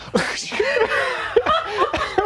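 A voice mimics sneezing with several short, exaggerated bursts in quick succession, close and fairly loud.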